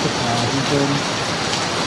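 Heavy overnight downpour in Gushan, Kaohsiung, a dense, steady roar of rain on surfaces filling the whole moment without pause, with a voice faintly underneath.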